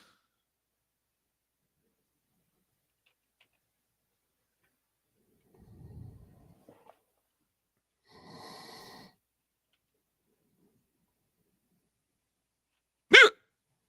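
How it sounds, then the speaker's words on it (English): Hiccups come in short, isolated bursts separated by silence, with one sharp, loud hiccup near the end, close and alone without talk. "Hiccups."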